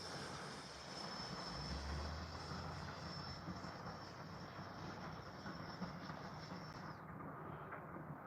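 A small RC propeller airplane drones steadily overhead as it comes in to land, a sustained engine whine with broadband wind-like roar that holds for several seconds before the high tone cuts out near the end.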